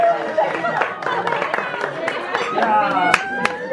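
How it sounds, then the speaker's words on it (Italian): A small group at a birthday party claps in scattered, uneven bursts, close by, with voices chattering and calling out over the clapping. "Un applauso al nostro amico Lucio"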